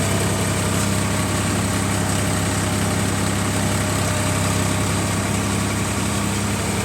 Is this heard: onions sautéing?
no